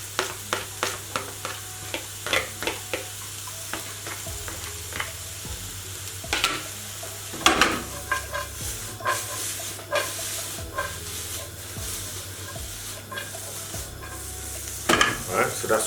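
Purple carrots stirred and fried in a pan with fish enchilada filling, a steady close sizzle under repeated scraping spoon strokes, clicking rhythmically at first, then louder clattering stirs.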